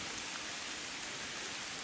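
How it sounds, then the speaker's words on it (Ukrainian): Steady rain falls through a forest in the foothills of the Gorgany mountains during a mushroom-hunting walk, a continuous even hiss with no voices. "пішов дощ і, на жаль, ми не взяли з собою щось від дощу, ні дощовики, ні куртки"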